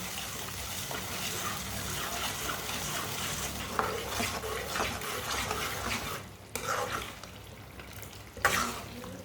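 A white chickpea curry simmers and sizzles in a pan, giving a continuous close bubbling hiss with brief stirring scrapes and a short lull near the end.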